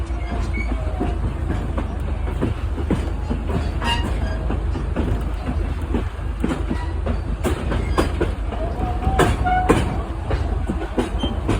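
A Pine Creek Railroad train with a 75-ton locomotive passes on a breezy day, a steady heavy rumble with rhythmic clickety-clack of wheels on rail joints, loud and close throughout, with no talking.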